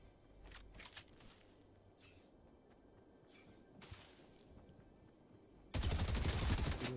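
Gunfire in the Fortnite video game, a few scattered faint shots early on, then a sudden loud sustained burst of rapid fire at the end.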